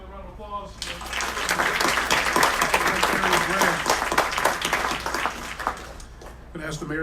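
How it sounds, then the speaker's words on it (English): Applause from a city council meeting audience swells up after a short spoken lead-in, a full, continuous round of clapping that tapers off, with a voice returning at the close. "Give another round of applause"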